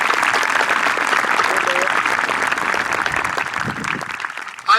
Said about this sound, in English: how about a huge round of applause for all of the students so far who have spoken and sang for us